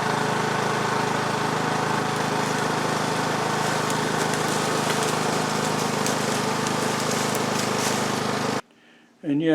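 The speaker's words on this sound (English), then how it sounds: "now we're going to do a pull away with the lawnmower" A lawn mower engine runs steadily and loudly while clearing a hunt trail, holding a continuous drone for most of the clip before cutting off abruptly near the end.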